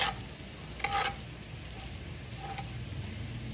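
Chili sauce is scraped from its container into a pan of buttered shrimp, crab and octopus frying on the stove, giving a soft steady sizzle with a couple of brief scraping knocks near the start, quiet and with no talk.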